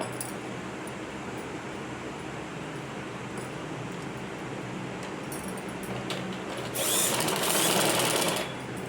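A sewing machine stitching a gathered pant: a continuous, close mechanical whirr of rapid needle strokes, swelling to a louder, faster burst near the end before easing off.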